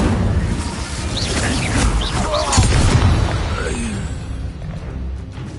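An Incendio fire spell is cast in a Harry Potter video game on PS5, giving a whooshing magical burst and a deep fiery boom with shimmering swirls that fade over several seconds.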